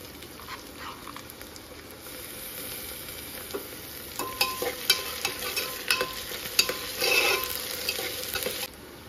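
Ginger-garlic paste frying and being stirred in a pan for chicken pulao, a steady close sizzle with a run of clattering spoon scrapes and knocks toward the middle and end.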